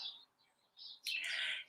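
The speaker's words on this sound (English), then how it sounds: "Can you hear the birds chirping in the background?" A few bright bird chirps sound faintly, ending with a louder, sharper call from a single bird.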